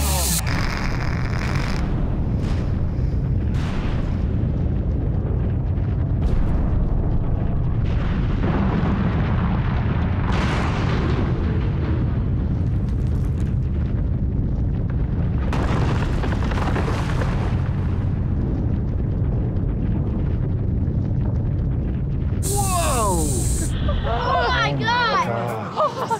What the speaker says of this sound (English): Today we have the last blast of our production blasting.